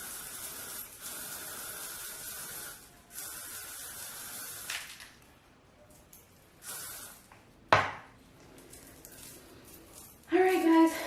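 Several hissing bursts of aerosol hair spray, a long one first then shorter ones, separated by quiet gaps and some rustling.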